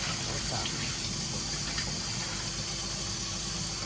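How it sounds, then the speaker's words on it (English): Tap water running steadily into a basin being filled with fresh water for washing vegetables and fruit for juicing, a continuous gushing hiss throughout with a faint background hum. "then I fill the basin again with some"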